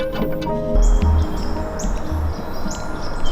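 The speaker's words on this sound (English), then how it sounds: "I love hearing these birds wake up." Birds sing at sunrise on a morning in eastern Pennsylvania, with repeated bright chirps and short whistled calls scattered over steady outdoor background noise, fairly close and clear.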